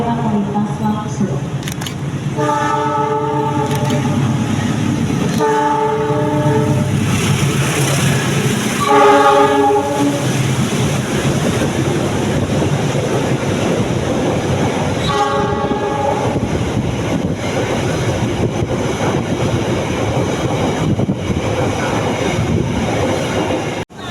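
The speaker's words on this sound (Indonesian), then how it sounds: "Hati-hati jalur dua kereta api akan melintas langsung." A train rumbles straight through a station on the Gambir–Bogor route with steady roaring noise, while a platform chime and Indonesian public-address announcements ring out in repeated bursts over it.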